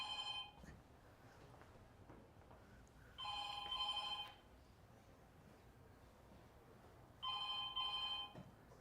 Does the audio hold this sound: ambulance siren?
no